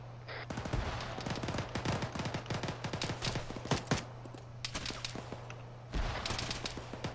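Rapid bursts of gunfire crackle during a military training exercise, shots overlapping in dense, irregular volleys at moderate distance with sharp individual cracks throughout.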